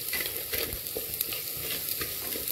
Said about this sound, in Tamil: இப்போ இது 30-40 செகண்ட்ஸ் மட்டும் வதக்குங்க